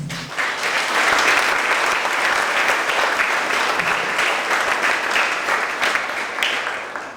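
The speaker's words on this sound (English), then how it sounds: "Everyone, a round of applause for all of our instructors." An audience at a health science technology recognition ceremony gives its instructors a steady, full round of applause, dense and sustained throughout before tapering slightly at the end.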